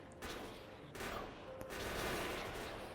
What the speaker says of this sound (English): they come in a big swarm, and the turrets take them out with ease